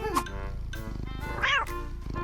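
A house cat meows a few times indoors, close and clear, its calls rising and falling briefly beside a room with no speech.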